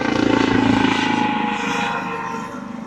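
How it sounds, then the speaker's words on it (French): A helicopter passes low overhead, a loud, steady rotor thrum and engine roar that stays close throughout and eases slightly toward the end. "on va attendre qu'il passe l'hélicoptère"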